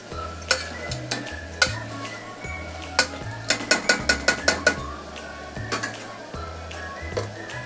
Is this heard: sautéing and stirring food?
yes